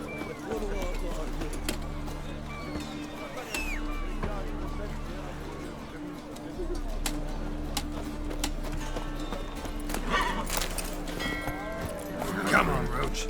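Hoofbeats of the horse Roach in The Witcher 3 run beneath game music and a busy mix of voices, with someone speaking over the top.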